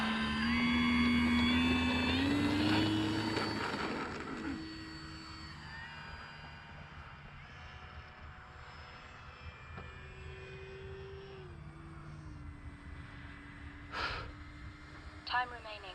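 A scale HSDJETS Cessna 182 radio-controlled model plane flies with a droning electric motor whine that climbs in pitch early on, then settles into a steadier, fainter hum. People talk over it throughout.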